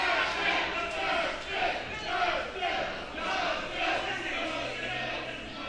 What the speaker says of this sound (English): The crowd is telling the wrestlers exactly how they feel. We're seeing more boos